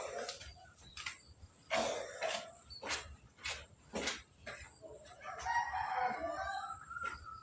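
A rooster crows repeatedly nearby in a chicken coop, several loud drawn-out calls in a row, with quieter clucks and rustling between them.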